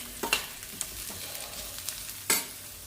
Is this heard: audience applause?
no